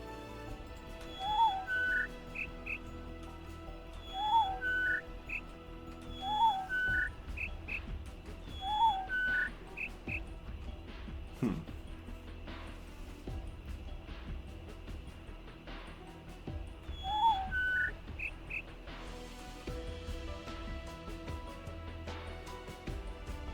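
Repeated chirping bird calls in the video game The Witness, short whistled phrases recurring every couple of seconds over a soft ambient outdoor bed.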